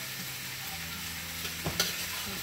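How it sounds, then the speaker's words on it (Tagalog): Chicken is stirred in a sizzling pan for a tinola stew, a constant hiss with a couple of brief scrapes and knocks from the spoon. "ilagay na natin ang chicken. Haluin lang."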